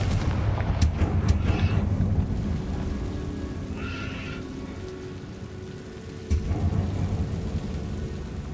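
Spell effects from the video game Hogwarts Legacy crackle and boom in a dense, rumbling rush of magical blasts with sharp impacts, loud and continuous, with no speech.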